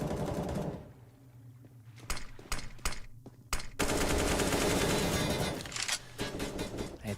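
Rapid automatic gunfire and bursts from a Counter-Strike match, sharp loud volleys clustering near the start and then merging into a sustained dense roar of shots and blasts.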